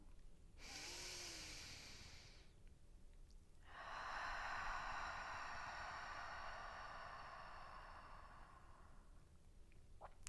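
A slow, breathy exhale through the open mouth during a yoga breathing exercise: two long airy breaths, the first about two seconds, the second a sustained near rush lasting around five seconds.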